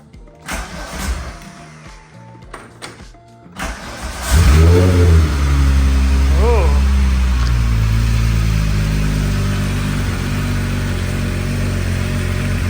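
A Volkswagen Corrado with a head gasket problem cranks and fires up, then settles into a loud, steady idle with a brief rev. Quieter clicks and handling noises come first, and no one speaks.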